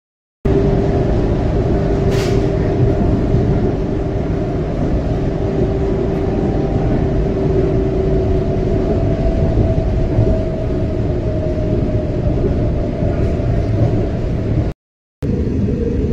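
A train rumbles steadily through Panjgam railway station on the snowy Srinagar–Banihal line, a continuous close, loud drone of wheels and carriages with no talking.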